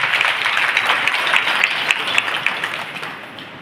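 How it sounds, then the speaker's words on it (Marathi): Audience applause welcoming a speaker at a devotional gathering of kirtan performers, a dense, steady wash of many hands clapping throughout, fairly loud and close, easing slightly toward the end. "सगळ्यांनी टाळ्या वाजवून स्वागत."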